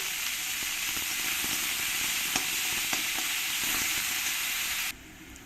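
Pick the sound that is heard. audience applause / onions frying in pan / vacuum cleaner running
onions frying in pan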